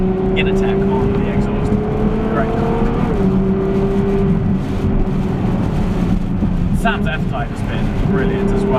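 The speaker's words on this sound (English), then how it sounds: "It's a phenomenal sound. So well done, Innertech on the exhaust." A Ferrari F12 engine with an Innertech exhaust drones with a deep, raspy exhaust note, rising and falling slightly, with a voice speaking over it.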